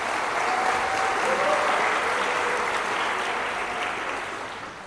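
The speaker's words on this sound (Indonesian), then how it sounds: "Kita beri aplaus untuk para orang tua." Steady applause from a seated audience honoring the graduates' parents at a university convocation ceremony, a dense continuous clapping that swells slightly and tapers off toward the end, with no speech over it.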